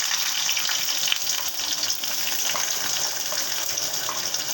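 Chopped onion hitting hot oil and frying for kochur loti, a steady loud hiss and sizzle filling the whole moment without a break.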